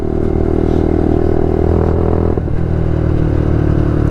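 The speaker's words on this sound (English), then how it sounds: "We are bikes, we want to go more than 25 miles per hour." Several 125cc motorcycles, including a Lexmoto, a Suzuki and a Kawasaki Ninja 125, ride together with a loud, steady engine drone that swells as they accelerate, with some rattling clatter and a brief dip midway.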